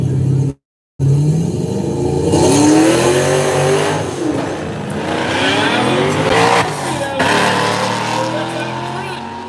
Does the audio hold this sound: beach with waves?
no